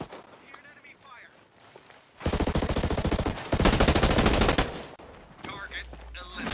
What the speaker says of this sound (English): Hear an enemy fire.